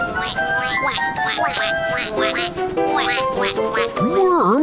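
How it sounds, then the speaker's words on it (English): Cartoon baby ducks quack in repeated bright, rising chirps, loud and close, over a busy music bed in a children's story scene. "Listen to those noisy baby ducks."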